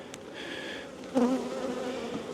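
Honeybees buzzing around an open hive being inspected, a close insect drone with a brief louder pass of a bee near the microphone midway.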